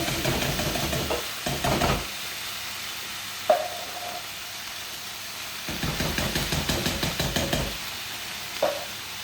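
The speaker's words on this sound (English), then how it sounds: "you can hear it deglazing there" Bursts of hissing sizzle from wine deglazing a hot pan, rising and fading in waves, with a few sharp metallic knocks in between.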